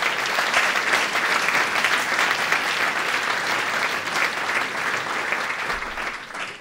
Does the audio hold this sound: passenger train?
no